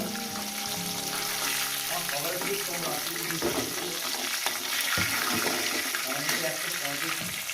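Bhangan fish pieces, the tails and head, fry in hot oil in a pan, giving a loud, continuous close-up sizzle that hisses steadily throughout with occasional crackles.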